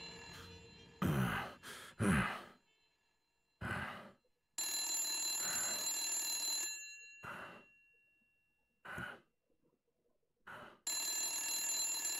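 An old-fashioned telephone in the detective video game Blacksad: Under the Skin rings in repeated bursts with short silences between. Brief sighs and breaths from a character fall in the gaps.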